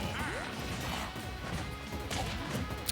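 Forward smash hits in a Super Smash Bros. Ultimate tournament match, dense game impacts and swooshes over a constant busy mix, moderately quiet with a sharp hit at the end.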